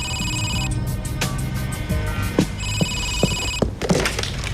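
An electronic telephone bell rings in loud repeated bursts, close by, with a few dull knocks and thumps of movement between and after the rings.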